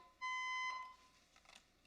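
A building fire alarm test sounds as a single steady electronic tone for about half a second, fairly close and clear, then cuts off, followed by a quiet room with faint clatter.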